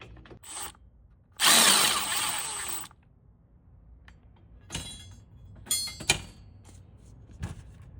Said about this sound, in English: I am using my screw electric drill